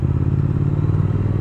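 A Triumph Speed Twin motorcycle engine runs close by with a deep, throbbing, steady mechanical rumble and light clatter, held at a constant level without a clear rise in revs.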